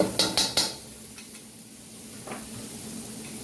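Garlic shavings dropped into hot olive oil in a pan while cooking green beans: three quick bright crackling bursts up front, then a soft, steady sizzle with a faint clink of utensils, close and quiet.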